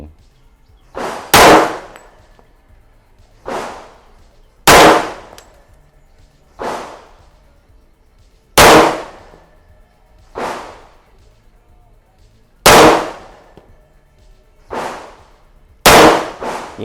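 A Colt 1911 .45 Gold Cup National Match pistol fired at a range, about nine loud, sharp shots spaced a second or two apart, each with a ringing metallic tail, with no talk.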